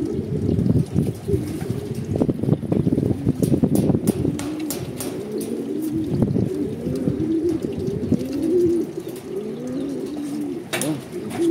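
Several pigeons coo continuously and close by in overlapping throaty calls, with occasional sharp flaps and clicks among them.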